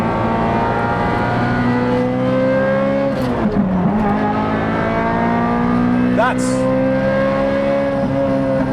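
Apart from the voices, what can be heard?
Ferrari 355 V8 with Tubi and Capristo exhaust, valves open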